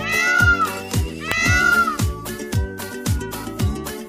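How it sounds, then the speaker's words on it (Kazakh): A peacock gives a rapid series of loud, wailing, cat-like calls, close and clear, repeated in quick rhythm. "Тауыз."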